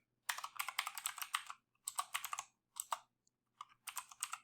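Someone types Unity code on a computer keyboard in quick bursts of clattering keystrokes, close and clear, with short silent pauses between runs.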